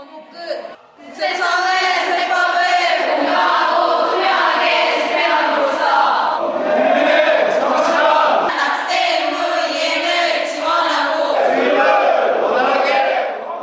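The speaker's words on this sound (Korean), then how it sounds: "생활관이 떠나갈 듯 힘찬 함성과 함께 저녁 점호가 시작되고" Trainees at an evening roll call in a dormitory shout together in a loud, sustained chorus of chanting voices, starting abruptly after a short quiet moment and carrying on with rhythmic, strained vocal bursts close by.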